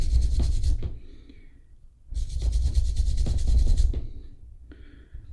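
A brass wire brush scrubs a part during a Ford Anglia restoration, making two long, close, raspy rubbing bursts separated by a brief pause, with a short scratch at the end.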